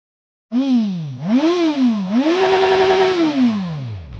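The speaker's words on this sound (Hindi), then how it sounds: "तो अभी आप जिसका एग्जॉस्ट साउंड सुन रहे हैं ये है सुजुकी कटाना" A Suzuki Katana 1000cc superbike's exhaust barks up from silence through several quick rev blips, then holds a loud, sustained high rev before easing down, heard close and alone.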